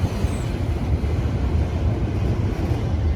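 An Indiana & Ohio Railway freight train rolling past a crossing as its last car goes by, a loud, continuous low rumble of wheels on rail up close, steady throughout with no voices.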